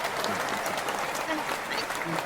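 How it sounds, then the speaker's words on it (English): An audience breaks into steady, dense applause that holds at an even level throughout, a close wash of clapping with no talk over it. "let me get some applause on that"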